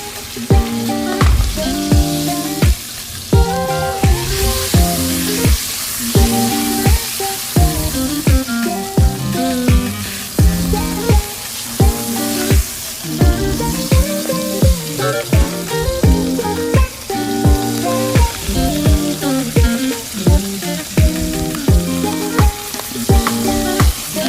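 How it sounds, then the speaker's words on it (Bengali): Onions fry in a pan for a giant freshwater prawn curry, giving a loud, constant sizzle with regular stirring scrapes and oil crackle close to the microphone. "এখন আমাদের পেঁয়াজ প্রায় ভাজা হয়ে গেছে,"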